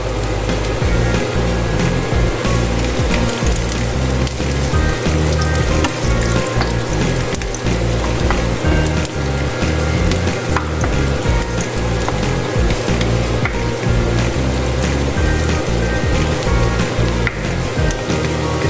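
Garlic sizzles steadily in hot oil in a pan while squid in coconut milk with eggplant is cooked, a dense continuous frying crackle running throughout without pause.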